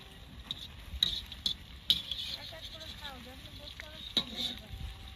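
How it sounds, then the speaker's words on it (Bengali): Cauliflower frying in hot oil, giving a soft, steady sizzle with scattered light ticks and a few sharper clicks, fairly quiet, with faint voices in the background. "ছাঁচড়ার জন্য ফুলকপিটাকে ভেজে নিয়ে তুলে রাখা হচ্ছে"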